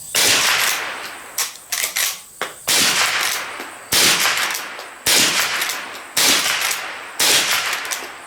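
A Marlin 1897 .22 Long Rifle lever-action fires a rapid string of about a dozen sharp, loud gunshots, each with a short ringing tail, in quick bursts and without talk.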